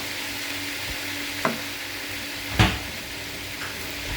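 Onions frying in a pan for a chicken masala curry, a steady broad sizzle running throughout with a couple of sharp clinks as they are stirred, fairly close and with no talking.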